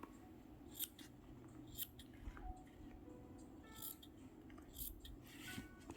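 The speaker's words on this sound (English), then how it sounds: "Let's cut the edges a bit." Scissors snip through fabric edges in a series of short, crisp cuts spread across the moment, close and fairly quiet over a soft room hum, with no talking.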